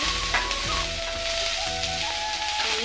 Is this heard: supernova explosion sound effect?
no